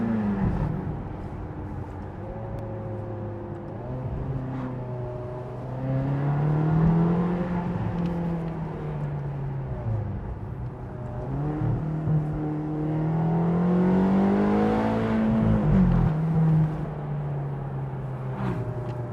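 Ferrari California 4.3 DCT V8 on a test drive, a steady engine drone with rising and falling pitch as it accelerates and shifts gears, heard continuously from inside the car with no talk.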